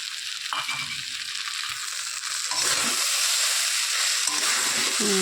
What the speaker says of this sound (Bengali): এবার আমি এর মধ্যে আস্তে আস্তে চিংড়ি মাছটা দিয়ে দেবো